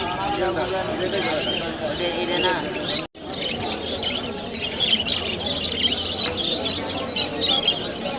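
Birds chirping at a large pet bird market in Mirpur, where budgerigars are among the birds on sale; steady bright twittering runs throughout beneath people talking nearby.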